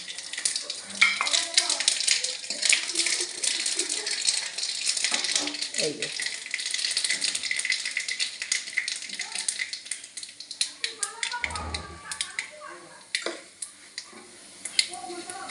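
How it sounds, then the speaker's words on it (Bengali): Mustard seeds and panch phoron five-spice fry in oil with bay leaf and dried chilli for a tomato chutney. The sizzle crackles and pops irregularly, with a few dull stirring knocks in the pan. "তেজপাতা শুকনো লঙ্কা একটু ভাজা ভাজা হয়ে গেছে এবার সর্ষে আর পাঁচ ফোড়নটা দিয়ে দিলাম"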